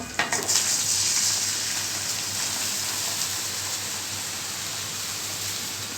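Soaked polao rice sizzles loudly in a hot pan, a bright continuous frying hiss that follows a few quick clatters at the start.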